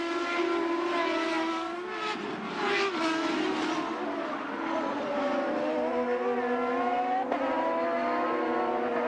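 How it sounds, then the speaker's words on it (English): CART Indy race cars scream around the track together, several high-revving engines layered into a sustained loud drone with pitch sweeps as cars pass and shift. "he's only got half a lap to go now, which should give him a big enough cushion, and Tracy coming on is going to have to pass Pruitt"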